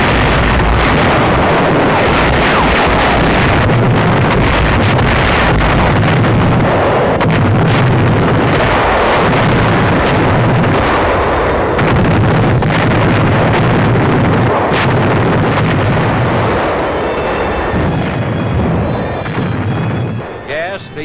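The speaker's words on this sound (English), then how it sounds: "Rendova shore installations come within range of our big naval guns." Big naval guns shelling Rendova shore installations in wartime, heard as loud, dense rumbling booms and blasts with wind-like roar throughout, continuous and heavy from start to finish.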